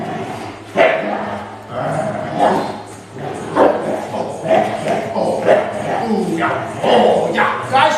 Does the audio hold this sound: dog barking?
yes